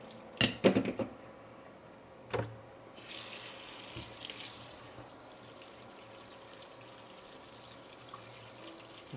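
Cooked pasta for a creamy mushroom and sausage dish is rinsed under a thin stream of cold tap water; a few clunks open it, then a steady, soft running-water hiss continues alone.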